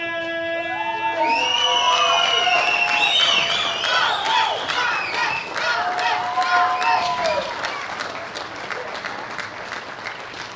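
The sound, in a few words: audience applause for bronze medalist at bench press championships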